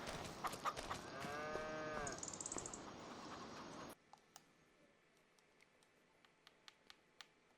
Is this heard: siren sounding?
no